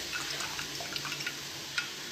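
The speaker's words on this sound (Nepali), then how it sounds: "यो पानी चाहिँ मैले तपाईँको यहाँ अगाडि पुरै एकदम फालिरहेको छु" Water is poured out onto the ground, giving a faint, steady splashing hiss dotted with a few small drips and splatters.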